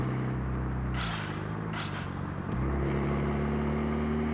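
A car engine in the mobile driving game Car Parking revs high toward eight thousand RPM with manual gear changes, its pitch stepping down and climbing again as it holds a loud, steady drone on its own.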